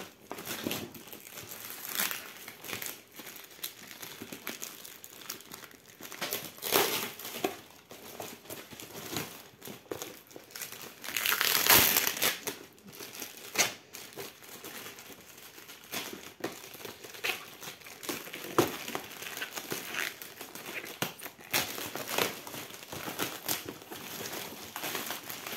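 Plastic wrapping from a cargo parcel crinkles, rustles and tears up close in irregular bursts as it is opened, with one louder crumpling burst midway and no talking.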